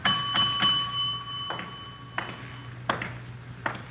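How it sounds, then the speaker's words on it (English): A bright hotel desk bell is struck several times in an uneven sequence, each ding ringing out and decaying over a steady low hum. "Nobody at the desk. I'll ring the bell."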